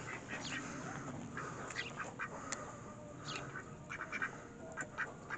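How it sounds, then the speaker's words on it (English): Ducks in a coop being renovated quack repeatedly while scurrying about, a busy cluster of nearby calls over steady background noise. "There goes the ducks running."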